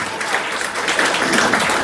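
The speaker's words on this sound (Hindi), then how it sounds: "एक बार जोरदार तालियां बाबा के लिए।" Dense, steady audience applause at a Brahma Kumaris birthday celebration for BK Varsha, close and loud with a continuous wash of many hands clapping throughout.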